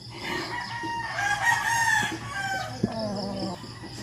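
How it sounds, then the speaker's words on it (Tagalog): A rooster crows loudly nearby, a long strained call over faint background murmur, with a brief knock near the end. "Ang atong manok na sa likod."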